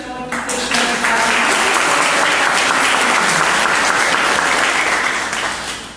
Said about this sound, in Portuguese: E agora, uma salva de palmas para vocês que estão aqui deixando